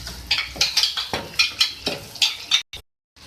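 Roasted ground black pepper, cumin and coriander being stirred into chicken karahi in a pot, a series of quick scraping, clinking strokes with a faint sizzle, close and steady, ending in a brief pause.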